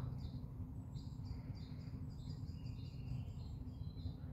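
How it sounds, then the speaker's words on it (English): Faint, high bird chirps and calls repeat across the clip above a steady low rumble of wind or distant traffic. "I love to hear the sound of the birds"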